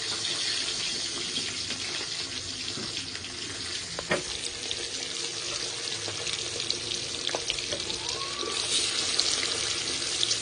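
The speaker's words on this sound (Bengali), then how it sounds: "তেলটা গরম হয়ে গেছে, এবার মাছগুলো এক এক করে ভেজে নেব।" Rohu fish pieces, seasoned with turmeric and salt, frying in hot oil give a steady, dense hiss with a few faint clinks, continuous throughout.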